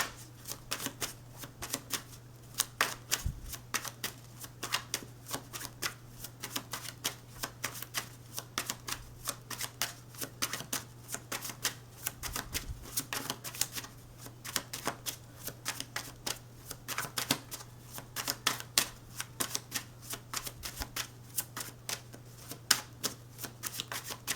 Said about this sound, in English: I am going to shuffle all the cards out before I talk